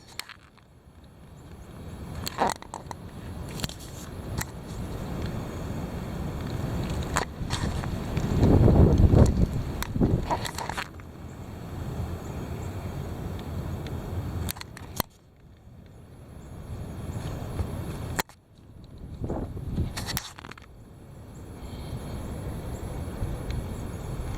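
Heavy wind roars in a steady broadband rush with low rumbling gusts that swell and drop, peaking strongly around the middle before briefly cutting out and returning, with no voices.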